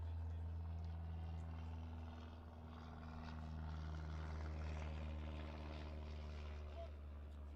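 Low droning engine of an airplane passing over a baseball ballpark, a steady tonal hum that swells slightly and lingers, heard beneath a broadcaster's voice.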